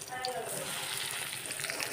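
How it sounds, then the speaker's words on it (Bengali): Fish roe frying in a pan gives a soft, steady sizzle that stays continuous and fairly quiet throughout, with a few small crackles near the end. "ডিমগুলো ভাজা হয়ে গেছে"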